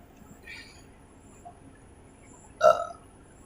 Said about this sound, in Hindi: दूसरा वाला डकार आ गया है